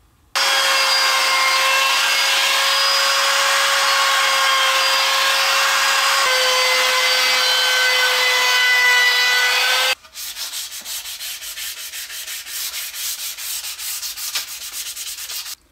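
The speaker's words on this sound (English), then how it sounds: "I'm going to use a trim router and a 1/8 roundover bit." A trim router with a 1/8 roundover bit runs loud and close, its high steady whine holding for about ten seconds with a slight pitch drop, then cutting off abruptly into softer scraping and rubbing of the wood edge.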